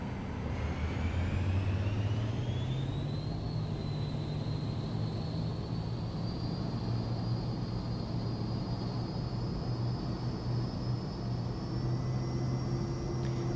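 Cirrus Vision Jet engine spooling up to takeoff thrust in Microsoft Flight Simulator, a steady jet hum whose whine climbs in pitch over the first few seconds and then holds at a constant roar.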